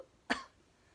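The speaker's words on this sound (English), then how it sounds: "Turn your head away and cough into your sleeve." One short, muffled cough in a quiet room, over in a moment.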